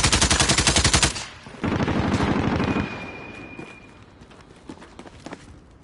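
Light machine gun fire in a first-person shooter, a fast, loud burst of rapid rhythmic shots for about a second, then heavier sustained rumbling fire that fades into scattered distant pops and thuds.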